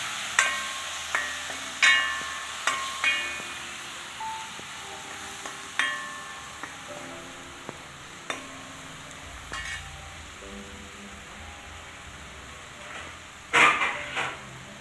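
A spatula stirs pachadi curry in a pan, giving a series of close, distinct metallic scrapes and taps at irregular intervals over a faint background sizzle, with a louder clatter near the end.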